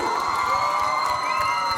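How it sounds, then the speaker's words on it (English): A crowd at a Pepe Jeans campaign unveiling cheers and whoops, a continuous wash of excited voices with some faint clapping mixed in, loud and steady from start to finish. "a big round of applause for them"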